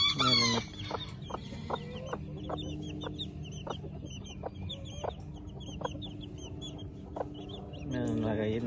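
Silkie hens and their chicks cluck in short, sharp calls spaced across the scene, with a steady low hum behind them and a brief voice at the start and end.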